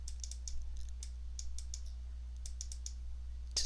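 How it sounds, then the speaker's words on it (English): Rapid computer mouse clicks in quick pairs and short bursts during 3D modeling work, crisp and close over a low steady hum, no talking. "So I'm double clicking on all these"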